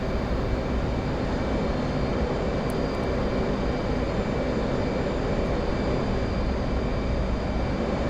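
F/A-18 Hornet jet in the DCS flight simulator during a runway landing approach, a loud, steady, unbroken engine roar with a whining tone, filling the whole stretch with no talking.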